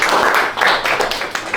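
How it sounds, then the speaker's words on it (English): Audience applause at a stand-up comedy night in The Project, Caerphilly: a steady wash of many hands clapping, fairly close and loud throughout, with a few sharper claps standing out. "Give yourself a round of applause."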